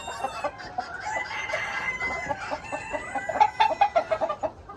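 Ornamental chickens in a flock cluck and chatter nearby, with repeated short clucks that quicken into a rhythmic run toward the end and a crow in the background, with no voices.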